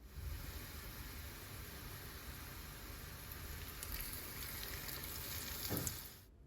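Medu vada frying in hot coconut oil in a pan, a steady, dense sizzle and crackle that holds evenly throughout with no voices.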